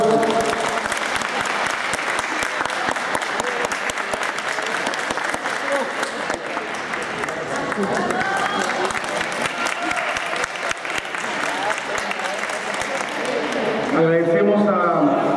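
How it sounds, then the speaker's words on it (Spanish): Sustained audience applause at a school science fair award ceremony, a dense, steady wash of clapping that fills the whole stretch, with a few voices mixed in near the end. "Un fuerte aplauso."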